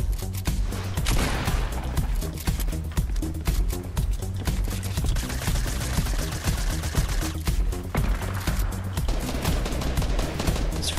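Rapid, sustained automatic gunfire from a Fortnite match rattles loud and close almost without pause, dense bursts layered over one another throughout.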